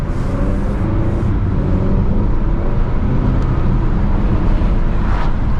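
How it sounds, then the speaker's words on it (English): A 2020 Honda Accord with the 2.0T turbocharged engine pulls under half throttle, giving a steady, continuous engine and road drone heard from inside the cabin, loud and unbroken throughout. "I'll give it like half throttle right now"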